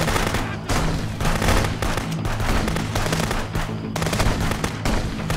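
Gunfire fills a firefight in the police border-checkpoint video game Contraband Police, with loud, dense automatic bursts and rapid shots running almost continuously, under faint talk.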